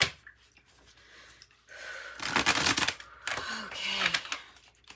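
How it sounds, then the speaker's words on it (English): Tarot cards are shuffled in two bursts of dense riffling and rustling, loud and close, with a soft voice murmuring quietly between them. "let's go ahead and keep these cards going, shuffling"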